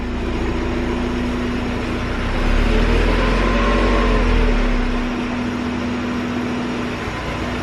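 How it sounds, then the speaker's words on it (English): Mazda Miata motor running smoothly on a dyno, a loud, close, steady drone with a strong low tone that swells briefly in the middle before settling back. "Honestly, the motor sounds a lot smoother than it was"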